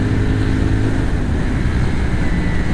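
CFMOTO 450 SR-S motorcycle with a 270-degree crankshaft parallel-twin engine, running steadily with a dense, rumbling low exhaust note that stays loud and even throughout, with no talking.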